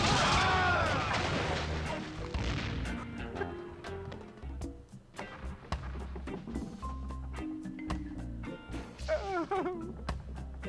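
Shooting in The Curse of Monkey Island, a burst of crashing booms at the start that fades into scattered sharp cracks and clatter, with game sounds and music underneath.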